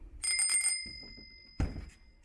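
A classic bicycle bell mounted on the handlebar gives a bright, sustained ring at close range, then fades out into quiet handling and a thud.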